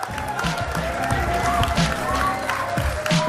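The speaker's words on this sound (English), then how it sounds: "It's just really amazing to hear them cheer for me here." Tournament crowd at a Clash Royale event cheering and clapping for the champion, a steady mass of applause and shouts from many people at moderate distance, with a voice talking over it.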